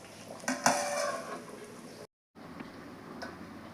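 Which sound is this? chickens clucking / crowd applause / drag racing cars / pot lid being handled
pot lid being handled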